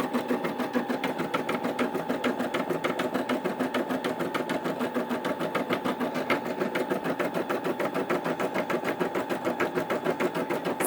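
A Brother SE 600 embroidery machine stitches a design onto fabric backed with 2.5 ounce cutaway stabilizer, a steady, fast, even rattle of needle strokes that runs close and continuous throughout, with no talking.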